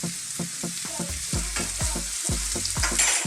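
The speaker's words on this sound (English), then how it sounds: "let's just saute those for a few minutes" Ingredients for a cheese cream mushroom sauce for pork chops are sautéed in a pan, with about ten rhythmic scraping stir strokes over a steady close sizzle and no speech.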